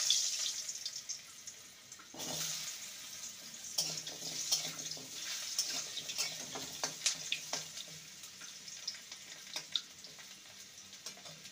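Diced potato pieces fry in hot oil for a taro root and prawn curry, a soft steady sizzle with occasional stirring clatters and spatters, fairly quiet and close.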